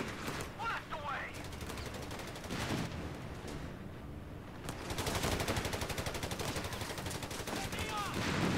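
Infantry gunfire in the World War II strategy game Company of Heroes 3, Italian campaign: dense, rattling bursts of rifle and machine-gun fire overlap continuously. A loud volley rises near the end, and a voice can be heard under the shooting.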